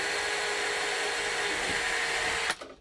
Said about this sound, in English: I've had this drill 13 years and it still does the job